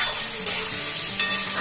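Carrots and mixed vegetables get stirred in a hot pan for a homemade Chinese dish, a short burst of sizzling with two louder scraping strokes close by.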